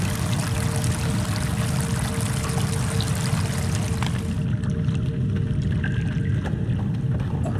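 The Thorens mountain river rushing past in a continuous, close, broadband roar of flowing water, steady and loud throughout with no voices.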